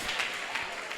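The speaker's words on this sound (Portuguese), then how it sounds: "bate palmas e dá glórias a Deus" Congregation clapping hands together during a church service, a steady dense patter of many palms at a moderate distance.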